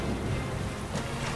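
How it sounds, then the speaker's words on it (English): Gentle, warm rain falling over water, a soft continuous patter and hiss with a low rumble beneath, steady and fairly quiet through the short stretch. "A strangely warm and gentle rain begins to fall."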